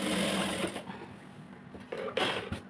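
A sewing machine runs steadily while stitching piping onto a blouse, a continuous close mechanical whir that pauses briefly and then starts up again.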